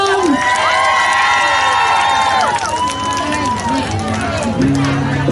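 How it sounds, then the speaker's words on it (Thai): Outdoor crowd at an Isuzu dealer event in Lan Sak, Uthai Thani, cheering and applauding to welcome a singer. The crowd is loud and close, and a voice and a music tone run through it. "ขอเสียง ปรบมือดังๆนะครับ"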